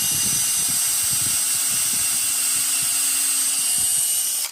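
A power drill with a Kreg R3 jig bit bores a pocket hole into wood, whining loud and steady for over four seconds before abruptly stopping.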